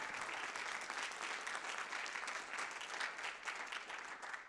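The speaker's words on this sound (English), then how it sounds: "Let's give them a round of applause" Audience members at an annual holiday concert applaud steadily, a thick and continuous wash of clapping from a crowd with no talking over it.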